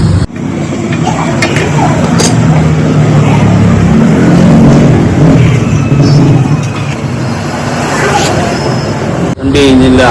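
A vehicle engine runs steadily after a starting-problem repair, a loud close idling rumble held for the whole stretch, briefly cutting in and out at the start and end.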